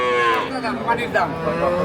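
A Friesian dairy cow at a busy cattle market lets out one long, loud, close moo that wavers in pitch, with faint crowd noise behind it.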